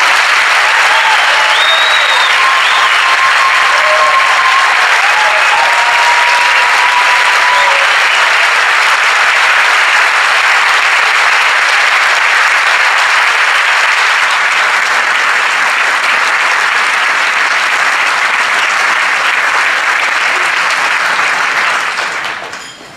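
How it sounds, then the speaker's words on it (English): A large audience at a Colorado event for Rep. Michele Bachmann gives a long, loud ovation of dense, sustained clapping with a few whistles, lasting about twenty seconds before it cuts off. "one more round of huge Colorado applause to thank you so much"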